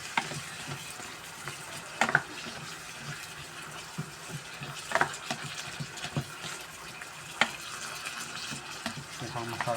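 Pancit bihon with soy sauce and vegetables stirred in a pan, a low bubbling sizzle under irregular scraping strokes and occasional sharp clinks of a utensil against the metal.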